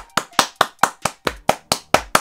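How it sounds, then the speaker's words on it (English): A single pair of hands claps in a quick, even rhythm, about ten sharp, close claps in a row, with no voices. "round of applause for Toby."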